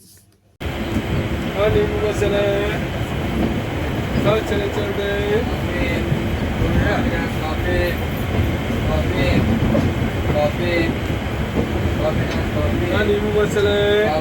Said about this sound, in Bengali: দেখো সময় মতো ট্রেন ছেড়েও দিয়েছে